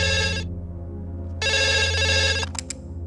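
A telephone bell rings in two bursts, a short trill followed by a longer one after a pause, loud and close over a steady low background hum.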